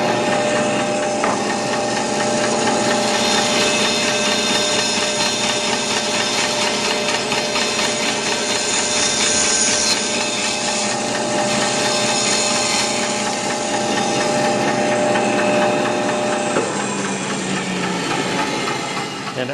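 A power saw cuts a curve into a wooden cutting board with a steady, loud mechanical whir and buzzing blade noise that holds for the whole stretch, slightly varying as the cut progresses.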